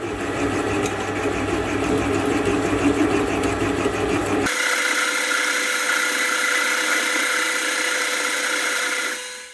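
A metal lathe turns and cuts a centering roller, giving a loud whirring run with a grinding cut that drops away midway, leaving a thinner steady motor hum that fades out at the end.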